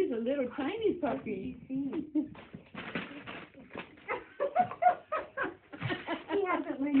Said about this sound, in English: Regan, this is Cheerio and he's your new puppy.